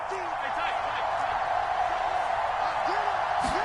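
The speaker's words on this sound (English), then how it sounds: "The Arrowhead crowd in full roar." Arrowhead stadium crowd in a PS4 American football video game gives a dense, steady roar that fills the whole stretch without letting up.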